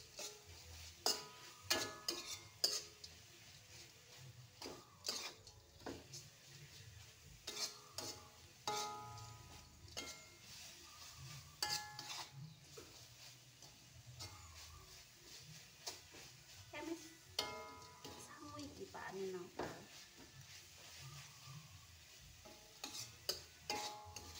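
A spoon stirring small dried anchovies into cassava leaves frying in a pan, quiet irregular scraping and clinking over a soft sizzle, close and faint throughout.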